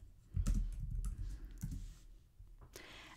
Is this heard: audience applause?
no